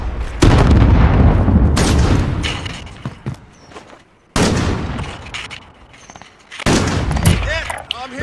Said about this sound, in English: Launching rocket!